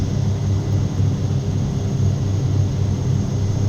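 A light aircraft's engine drones steadily and loudly throughout, a continuous low rumble from a flight simulator game as the plane lines up with the runway.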